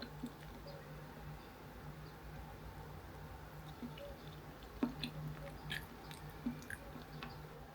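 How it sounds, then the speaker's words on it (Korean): Soft, close chewing of a bite of ube Basque cheesecake, with faint squishy mouth sounds and a few small clicks over a quiet room hum, no talking. "케이크도 먹어볼게요."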